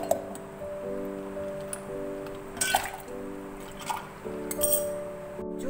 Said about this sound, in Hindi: थोड़ी सी इसके अंदर हम आइस क्यूब्स ऐड करेंगे।